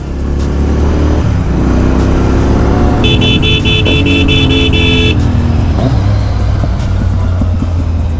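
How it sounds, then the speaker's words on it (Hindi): Royal Enfield Continental GT 650 motorcycle with an aftermarket exhaust revving on a road ride, a loud steady engine drone rising and falling, with a car horn honking for about two seconds in the middle. "अभी एग्जॉस्ट बैटल बड़ी वाली तो नहीं होगी बट यस दो एग्जॉस्ट ही करेंगे"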